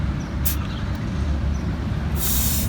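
Air hissing out of a car tire valve while the pressure is lowered, with bright high bursts of release, a short one early and a longer one at the end, over a steady low rumble of background noise.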